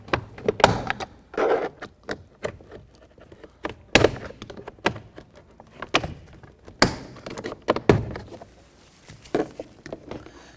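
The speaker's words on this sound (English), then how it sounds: "You're going to hear those plastic pins popping out and releasing." Plastic trim pins pop loose as a door panel is pried off a 2010-2017 Chevy Equinox, with a series of sharp irregular snaps and thunks, several louder cracks standing out among softer clicks.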